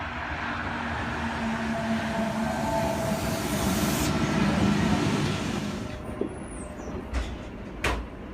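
A train pulls into a station, a long steady rumble and rolling wheel noise that slowly fades. It ends with a few sharp metallic clicks and short squeaks as it comes to a stop. No voices are heard.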